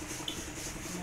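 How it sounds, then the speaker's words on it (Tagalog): Sandpaper rubs over a carved wooden panel door, a faint steady scratchy friction that runs continuously and close by. "So, kailangan talaga liha."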